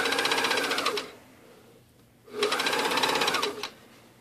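A sewing machine stitches neck binding onto a garment in two close, fast-rattling runs of about a second each, split by a short pause. No talking is heard.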